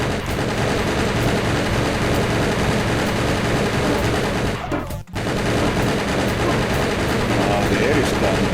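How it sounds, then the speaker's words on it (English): Continuous automatic gunfire in a first-person shooter video game, dense rapid bursts filling the scene almost without break, loud and close, with one brief dip partway through. "I hear gun."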